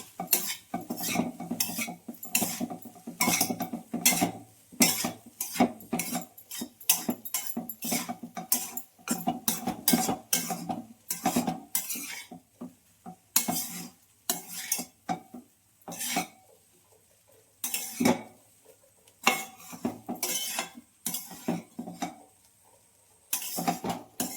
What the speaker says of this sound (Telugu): సాల్ట్ కారం అంతా కలిపేలాగా కలపాలి